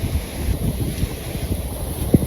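Wind blowing outdoors in a village at night, a steady rushing roar buffeting the microphone with a low rumble and a few soft gusty thumps, no voices.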